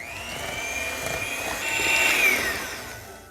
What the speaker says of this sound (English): Now we're gonna get our trusty mixer.